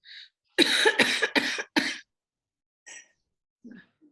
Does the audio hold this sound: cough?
yes